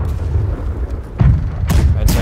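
Ship cannons in the pirate naval game Blackwake go off in deep booming blasts, three heavy bursts over about two seconds, each with a rough rumbling tail, loud and near over a steady low background roar.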